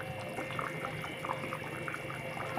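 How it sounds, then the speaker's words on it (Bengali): Thin fish curry broth with ridge gourd and potato bubbles at a full boil as fritters are dropped in, making a continuous low bubbling and gurgling with small liquid pops, fairly close and steady, no talking. "ঝোলটা টকবক করে ফুটে গেছে, এই যে সব ছেড়ে দিচ্ছি"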